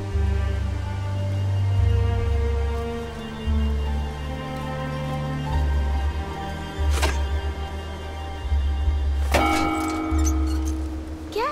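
In the video game Song of Nunu: A League of Legends Story, a large gong rings with a deep, resonant tone and long metallic sustain. Two more loud strikes follow later, each ringing out alone.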